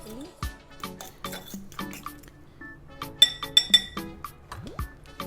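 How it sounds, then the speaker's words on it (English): Cooked apples being mashed with a fork in a bowl, giving irregular soft squishes mixed with sharp clinks of the fork against the dish, close up and fairly quiet. "I'll just mash it with fork."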